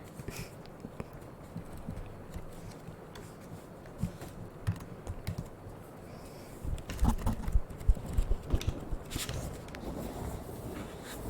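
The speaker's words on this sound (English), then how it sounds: "do you guys like keyboard sounds?" Computer keyboard typing sounds as irregular soft clicks and taps, close but quiet, growing busier and louder in the later part.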